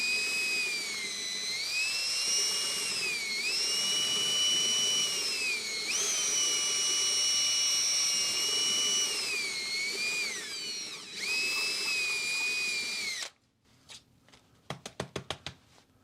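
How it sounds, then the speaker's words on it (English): A power drill whines loudly and steadily, its pitch rising and dipping as it bites into a PING fairway golf club, then cuts off, followed by a few light clattering knocks. "I'm going to try and drill through it, or drill down and get all of it"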